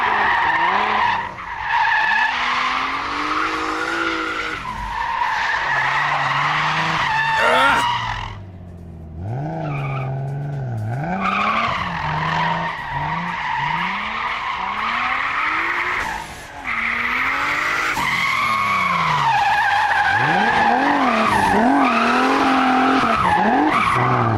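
A drift car at a drift practice event skids through long, loud tire squeals with the engine revving and howling, sustained and close, with some voices faintly mixed in.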